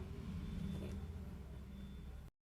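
A truck rumbles past outside, a faint low engine drone with a slight swell that fades, then cuts to silence near the end.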